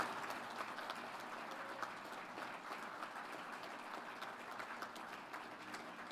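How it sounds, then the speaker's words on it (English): Outdoor crowd at the christening ceremony for the future USNS John Lewis (T-AO 205) applauding shipyard workers. The clapping is steady but faint and distant, a diffuse patter that continues evenly throughout. "give them a great round of applause"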